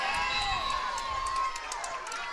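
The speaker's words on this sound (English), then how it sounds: "The Hazard crowd's getting riled up, Eugene" A crowd at a high school football game cheers and shouts from a distance, with a sustained roar and whistles rising and falling over a few seconds.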